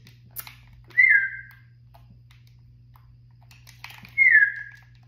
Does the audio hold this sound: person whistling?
yes